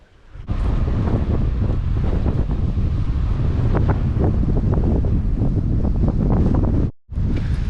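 Heavy wind buffets the microphone in a constant, loud low roar, cutting out briefly near the end before resuming, outdoors in green countryside.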